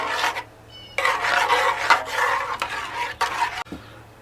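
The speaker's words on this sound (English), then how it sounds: "We're going to stir that in until it's smooth." A spoon stirs vanilla extract and butter into homemade pudding until smooth, making rhythmic scraping and rubbing strokes against the pot in several close, repeated passes with brief pauses.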